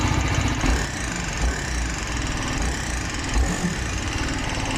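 An Apache RR310 motorcycle engine with worn camshaft noise idles close by, a steady chugging drone with a faint mechanical tick and small periodic surges.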